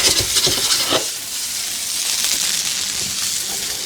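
Onions for French onion soup sizzle and hiss steadily in a pan, with brisk scraping stirs at the start that then settle into a continuous close fry.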